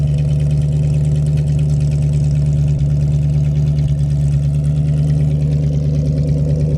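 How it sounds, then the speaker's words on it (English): A 1971 Ford Mustang Mach 1 idles steadily with a deep, low rumble from its dual exhaust, continuous and close, with no talking. "Dual exhaust sounds good."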